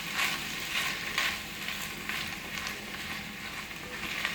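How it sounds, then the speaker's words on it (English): Butter melting in a hot pan with browned vegetables for pulao gives a steady, soft sizzle with faint crackles throughout, fairly quiet and close with no talk. "Now add the butter if you're using it."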